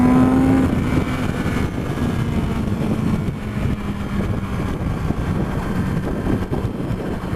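A Kawasaki Z900RS motorcycle, 109 horsepower and 215 kilos, pulls hard under acceleration with a steady, rising engine drone mixed with heavy wind rush, sustained and close throughout.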